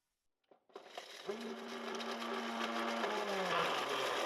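A mixer grinder dry-grinds black pepper, cumin and garlic: after a brief pause the motor starts up and settles into a loud, steady whir, with the gritty rattle of the spices growing and no voices.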